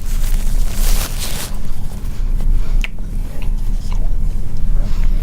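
A spicy red chicken wing being eaten up close, with loud, continuous wet chewing and biting sounds filling the whole stretch, no voices over it.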